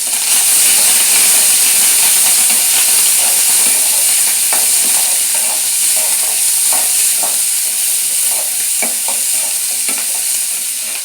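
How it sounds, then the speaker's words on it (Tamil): Onion, green chilli and curry leaves fry in hot oil with a loud, steady sizzle and hiss, close up, broken by scattered clicks of stirring and no voices. "இப்போ வெங்காயம், பச்சை மிளகாய், கருவேப்பிலை போட்டுக்கலாம்."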